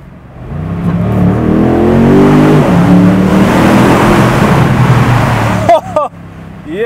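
A BMW M850i Convertible launches hard with launch control, its engine building from a low rumble into a loud rising roar through the gears, ending with quick gearshift blips and pops at close range inside the car.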